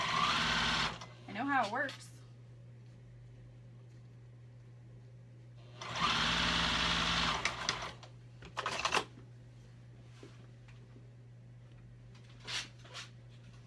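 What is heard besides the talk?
Juki 2000 QI sewing machine stitching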